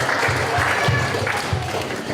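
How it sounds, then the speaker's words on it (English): Brief applause from an audience at a youth festival competition after a contestant is eliminated, a continuous patter of hands with a low hum underneath, lasting about two seconds. "Please give her a big round of applause"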